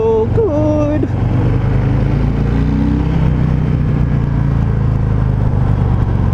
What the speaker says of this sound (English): the test ride of the 2019 Harley Davidson Fat Boy